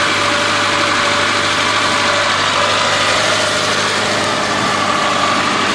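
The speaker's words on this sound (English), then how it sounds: "You can hear it idling a little high right now." A Suzuki Samurai engine idles steadily, slightly high, loudly at close range, with a constant mechanical hum and vibration and no talking.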